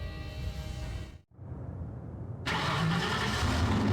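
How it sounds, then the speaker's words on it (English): A black Mercedes-Benz car engine in a video game cuts out briefly, then starts and settles into a loud, steady idle running close by. "a black Mercedes-Benz as it coasted down the street real slow"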